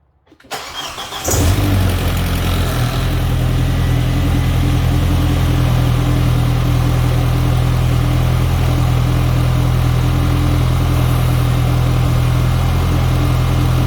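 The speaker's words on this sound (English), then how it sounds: "So now just gonna start the car and let it run for a little bit." A 2004 Audi B6 A4 1.8T turbo four-cylinder cranks briefly and fires up, then settles into a steady, even idle that holds loud and close for the rest of the run after an oil change.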